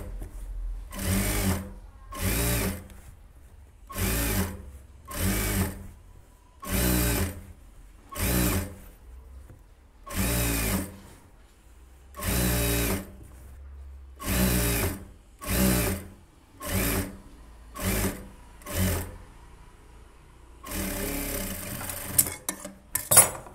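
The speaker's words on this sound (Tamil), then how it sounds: "இப்போதைக்கு சும்மா ரப்பாக நான் ஒரு தையல் போடுறேன்." A sewing machine puts a rough seam into a 42 inch blouse in about a dozen short, loud, evenly spaced bursts separated by brief pauses.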